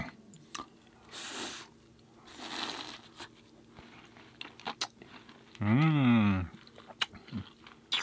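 Someone chews a crunchy vegan Oreo-like sandwich cookie close to the microphone, with bursts of crunchy mastication and a short voiced sound between bites.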